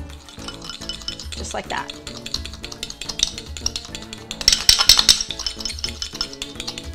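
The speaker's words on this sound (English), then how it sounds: "And then what I'm gonna do is just whisk it, right?" Honey salad dressing whisked in a bowl, a quick stirring and clinking against the bowl that swells briefly, heard under a speaking voice and kitchen noise.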